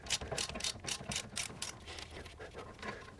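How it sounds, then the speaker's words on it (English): A 17mm socket ratchet and ring spanner work loose a steering clamp bolt on a Toyota Land Cruiser tie rod, giving a quick run of close, rhythmic ratcheting clicks that fade toward the end. "we'll grab our 17mm socket and our 17mm ring spanner and we'll loosen this clamp"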